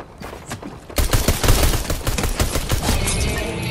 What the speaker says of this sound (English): How's he got a gun?